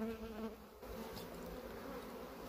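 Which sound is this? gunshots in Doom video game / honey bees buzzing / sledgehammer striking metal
honey bees buzzing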